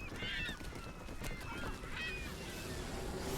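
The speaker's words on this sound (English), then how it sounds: "Oh no, seagulls!" Seagulls cry in the Final Fantasy VIII video game, several honking, squawking calls repeating over a loud, constant low rumble of background sound.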